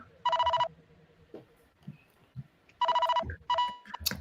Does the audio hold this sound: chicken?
no